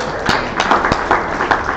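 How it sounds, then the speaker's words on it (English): Brief audience applause for a panel speaker at a conference panel discussion, scattered claps rising briefly and fairly close. "Let's give her a warm round of applause."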